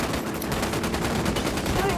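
Automatic rifle fire rattles in Ghost Recon: Wildlands as a dense stream of rapid shots, steady and loud for the whole stretch, with a voice mixed in underneath.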